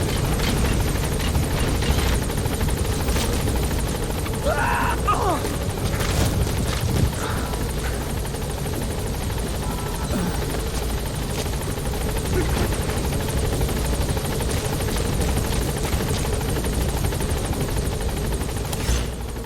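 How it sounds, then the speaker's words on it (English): A support helicopter arriving in the Metal Gear Solid video game: its steady rotor drone fills the whole stretch, loud and constant, with faint scattered mechanical noises beneath it. "Support helicopter has arrived."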